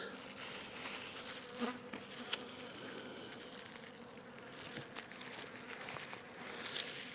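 A dense, steady buzz of many honey bees swarming close by at hives being given stimulative syrup feeding, with a few faint knocks and rustles underneath.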